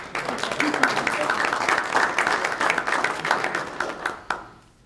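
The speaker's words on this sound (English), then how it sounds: "And we can clap for him." An audience claps for a school board member at a board meeting's presentations and resolutions, a steady patter of many hands that peaks and then fades out near the end, with a few voices mixed in.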